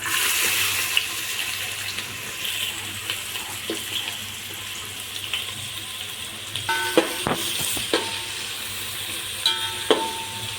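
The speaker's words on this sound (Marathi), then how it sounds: "तेल आपलं चांगलं तापलेलं आहे आता त्यामध्ये आपण टाकणार आहोत कांदा" Chopped onion fries steadily in well-heated oil, giving a continuous hiss, with a few sharp clatters and scrapes of stirring near the end.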